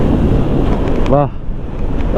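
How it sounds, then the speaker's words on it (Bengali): Wind rushing past the microphone while riding a motorbike on a road with greenery around: a loud, steady roar of buffeting air over the whole stretch, a brief tonal passing sound in the middle. "বাতাসটা যে কি ভালো লাগতেছে, এই বাতাসটার জন্যই তো বাইক চালায় মজা।"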